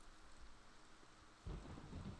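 Rain falls steadily during a thunderstorm in the video game Morrowind, and a low rumble of thunder swells partway through, all heard faintly with no voices.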